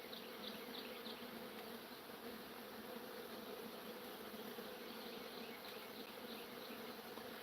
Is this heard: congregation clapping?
no